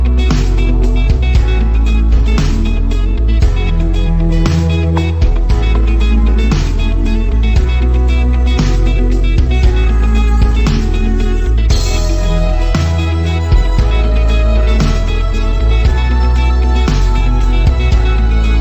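Steady, loud background music for a demo video made with Tyle, a dense mix with a strong bass and a constant beat running throughout, with no talking over it.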